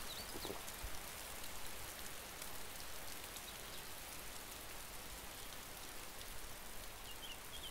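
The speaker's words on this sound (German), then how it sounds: "Jetzt hört der Regen auf" Steady rain falling in the video game DayZ, a soft, even hiss of drops across the whole stretch with faint scattered pattering, continuous and fairly quiet with no talking.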